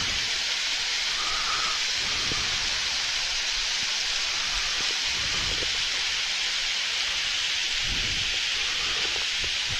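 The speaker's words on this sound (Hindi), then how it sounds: "ये देखिए भाई छुटकू झरना, कितना प्यारा झरना है, कितना इत्मीनान से पानी गिर रहा है भाई।" Small mountain waterfall along the route to Manang, Nepal, a steady, loud, unbroken rush of falling water that stays constant throughout, with faint low rumbles beneath.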